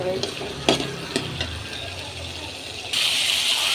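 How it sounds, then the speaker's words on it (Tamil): Turkey berries (sundakkai) sizzle and fry in a little oil, with a few scraping stirs early on and the frying hiss growing louder and brighter toward the end, close and steady with no talk. "கொஞ்சோண்டு எண்ணெய் ஊற்றி நல்லா எண்ணெயில் கொஞ்சம் வதக்கணும்"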